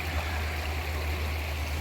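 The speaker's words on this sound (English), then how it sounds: "the creek flows towards me" Water flows steadily along a creek in Seneca, South Carolina, a constant close rushing wash with a low rumble underneath and no talking.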